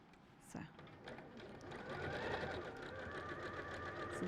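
A sewing machine stitches along a marked diagonal line across fabric squares: a soft tap, then a steady, continuous whirring motor run that grows slightly louder and holds to the end, with a voice faintly present.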